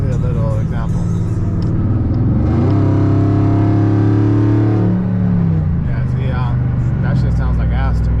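A Chrysler 300 SRT8 with a Borla Atak exhaust is revved to about three-quarter throttle, its deep idle rumble rising into a loud, sustained roar and then falling back to idle, recorded up close.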